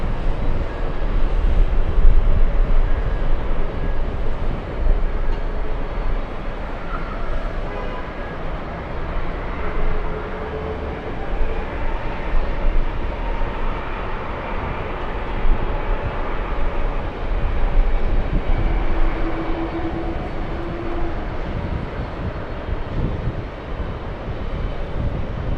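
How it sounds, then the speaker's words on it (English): A Delta Boeing 767 arriving from London and flying in at JFK airport, heard as a steady, broad engine roar that continues throughout, loud and close with wind buffeting and no talking. "Let's go over to the 767 flying in from London"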